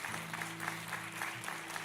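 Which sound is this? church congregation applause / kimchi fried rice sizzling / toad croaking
church congregation applause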